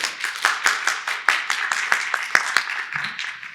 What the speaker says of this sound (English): Round of applause for Hylke.